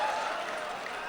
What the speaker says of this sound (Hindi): तालियां आपकी गलत जगह पे बज गई